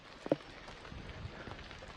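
Light rain drizzles steadily on a bike trip through Kerala's misty Nelliampathi mountains, a soft, continuous patter with a few louder drops near the start and no voices.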